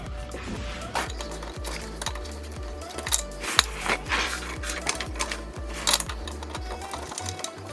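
A hand ratchet clicks in quick repeated bursts while tightening engine mount bolts on a BMW E90, close and crisp with a few metallic clinks between runs.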